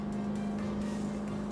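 Cranchi Endurance 27 motorboat planing on the water with its engine at a steady 3,150 RPM, giving a continuous loud drone and low hum alongside rushing hull and wind noise, with no talking.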